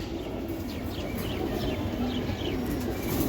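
A racing pigeon, a female from a Bangladeshi club loft, coos in soft repeated phrases over a steady background hiss, fairly close, with no talking.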